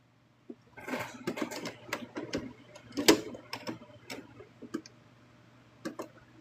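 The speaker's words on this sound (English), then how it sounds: "I'm trying to sew so slow" A sewing machine stitches slowly through a small plush toy in short irregular runs of close mechanical ticks and taps, with a loud clack partway through and pauses between, over a faint low hum.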